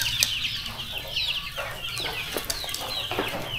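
Chickens in a farm henhouse cluck and chatter continuously close by, with overlapping calls, occasional wing flaps and a constant low background hum.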